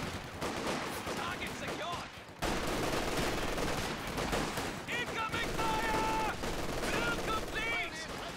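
Machine gun fire in a Company of Heroes 2 multiplayer battle, dense rattling bursts over continuous battlefield noise and other weapon shots, loud and sustained throughout.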